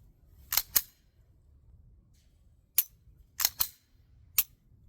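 An empty Glock 17 Gen5 pistol with a factory trigger is dry-fired, giving a few crisp, quiet metallic clicks of the trigger break and reset, spaced irregularly, close by in an otherwise quiet room.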